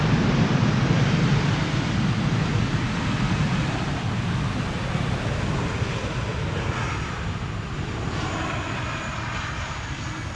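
An airliner landing on Polderbaan runway 18R at Amsterdam in windy weather, its thrust reversers giving a broad, rushing roar that is loudest at first and then slowly fades, with no voices.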